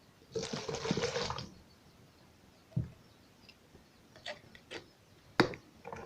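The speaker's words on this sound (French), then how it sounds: "Je verse dans mon seau." Vinegar and alcohol poured into a bucket, a steady splashing stream for about a second, then a few separate knocks and taps, heard alone.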